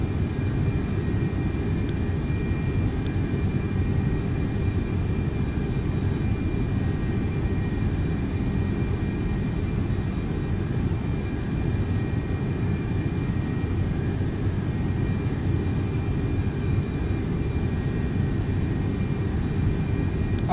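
Simulated MD-11F freighter jet engines at takeoff thrust in the X-Plane 12 flight simulator, giving a steady, loud, broadband roar that stays constant throughout with no talk over it.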